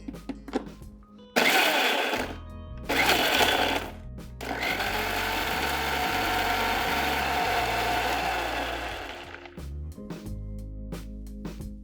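Electric blender grinding onion, lemongrass, garlic and galangal with a pinch of salt into a fine paste, loud motor whirring in bursts that stop and restart, then one long continuous run before cutting off, no talking.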